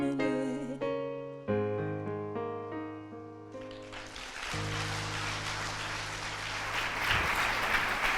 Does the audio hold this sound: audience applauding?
yes